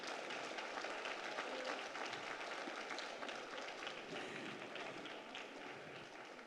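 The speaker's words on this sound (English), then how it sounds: "Let's give them a huge round of applause" A crowd at a school district board meeting gives a long, even round of applause, the clapping dense and moderately distant, fading slightly toward the end.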